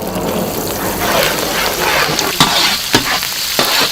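Small shallots fry vigorously in gingelly oil in a village kitchen, a loud continuous sizzle with stirring scrapes and pops close by and no speech.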